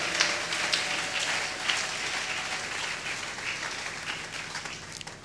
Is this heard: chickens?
no